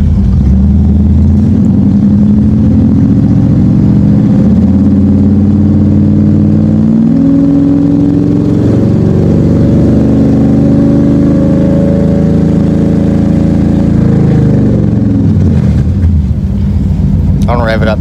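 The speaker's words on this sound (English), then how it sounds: "I don't rev it up too much more. It needs to warm up." A 1969 Dodge Charger's V8 idles with a deep, loud lumpy rumble and rises and falls through light revs, close up throughout, with someone talking over it.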